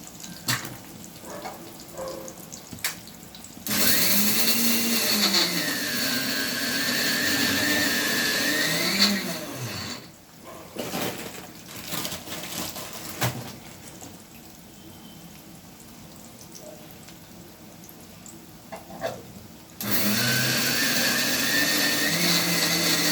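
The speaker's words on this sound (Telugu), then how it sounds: "ఈ సగం ఎర్రగడ్డ, ఈ తెల్లగడ్డ వేసి మిక్సీ పట్టేస్తున్నానండి" A kitchen mixer grinder whirs loudly as it grinds half an onion and garlic with salt into a paste, running in two long bursts with a pause of knocking and clatter between them.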